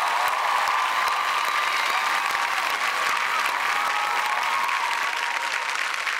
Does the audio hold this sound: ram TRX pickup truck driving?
no